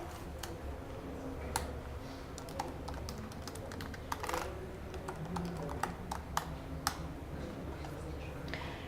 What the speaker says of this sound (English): I want to type text into it